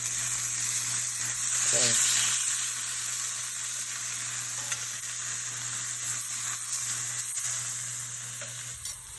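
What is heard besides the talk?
steaks frying in a pan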